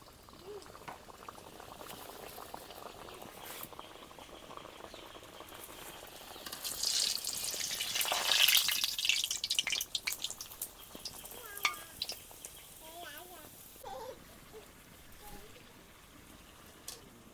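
Green-pea-stuffed kachori deep-frying in hot oil in a wok: a continuous bubbling hiss that swells to a louder, busier sizzle partway through, then eases back to a steady simmer.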